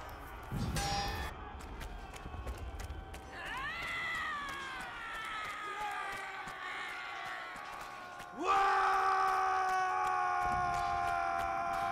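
Chivalry 2 characters let out long, wavering screams and war cries, one after another, loud and strained, overlapping into a shrill chorus that jumps louder near the end.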